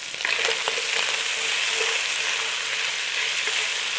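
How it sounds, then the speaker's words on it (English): Chunks of lean beef browning in a hot pan for chili, giving a dense, steady sizzle with faint crackles and a few soft spatula knocks, close up and constant. "now we can start to fry off the beef"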